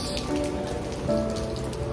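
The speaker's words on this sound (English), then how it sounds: "It's raining out here." Steady rain falls on surfaces outdoors in Amsterdam's Red Light District, a dense even patter of drops with faint background hum and no voices.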